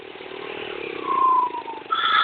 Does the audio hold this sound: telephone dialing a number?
no